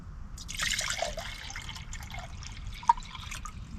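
Sixteen ounces of water pouring into an electric kettle, a soft trickling and splashing stream building then thinning out, with a single sharp drip or clink near the end, quiet and close.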